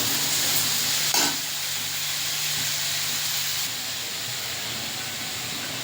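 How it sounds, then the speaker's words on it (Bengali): Beans with prawns, salt and turmeric fry in a pan with a loud, continuous close sizzle. A utensil knocks once near the start, and the hiss eases slightly later on. "সবজিটা ভাজা ভাজা করে নিয়েছি,"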